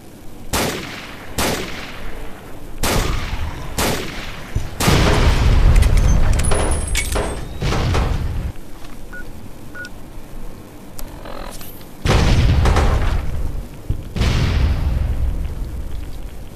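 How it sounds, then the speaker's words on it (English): Gunfire and explosions in the PC game Fallout: New Vegas: loud sharp shots in a rapid series, then heavy booming blasts that swell and fade, with repeated bursts through the scene. "Lots of explosions."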